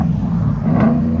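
A 2013 Ford F-150 with a 5.0L V8, true dual exhaust and NTR racing mufflers rumbles loudly and steadily up close, with a deep low drone and a brief rise partway through.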